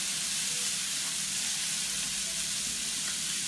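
Pirarucu fish pieces fry in a hot pan over high heat, giving a steady, dense sizzle and hiss that continues throughout with no voices.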